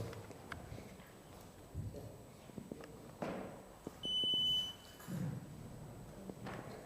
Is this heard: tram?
no